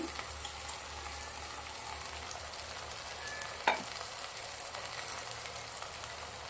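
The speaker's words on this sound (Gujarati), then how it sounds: "હવે આપણે સબ્જીને મિક્સ કરી દેવાની છે સરસ મજાનું મિક્સ કરી દીધું છે મેં" Okra and potato dry sabzi with crushed roasted spices stirred in a pan, a soft steady sizzle with faint scraping and one brief sharp clink partway through, no voices.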